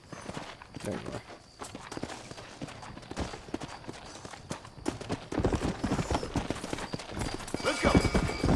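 Steady clopping of horse hooves plodding along amid ambient game sounds in Red Dead Redemption, with the pace growing busier and louder toward the end.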